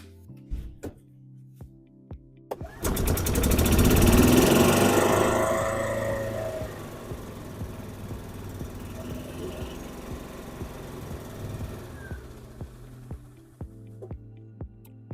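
A golf cart engine starts up loud and runs steadily, left idling to burn off old ethanol gas in the tank, with a rough continuous drone that settles to a lower running level.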